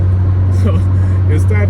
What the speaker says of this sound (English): So you start up the car